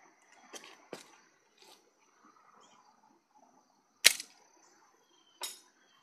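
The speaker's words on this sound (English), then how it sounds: "I'm gonna try and shoot a washer this time" A homemade mousetrap handgun firing a washer: a few sharp, close snaps standing alone in near silence, with one louder crack and fainter clicks around it.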